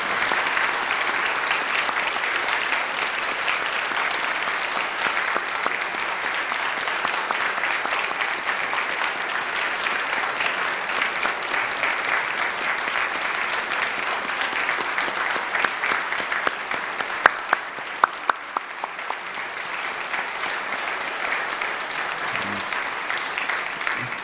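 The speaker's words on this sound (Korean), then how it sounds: "박수로 축하해 주시고" A church congregation at a Sunday evening service claps to welcome a pastor, producing steady, dense applause that carries on for about twenty-four seconds, with a few sharper claps near the end.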